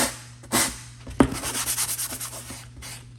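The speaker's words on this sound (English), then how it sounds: "So to avoid any splinters like this, I'm actually sanding it down with one of these." Sandpaper rubs back and forth over a wooden side panel for a mining rig in several short, close strokes, a soft rhythmic rasp with brief pauses between passes.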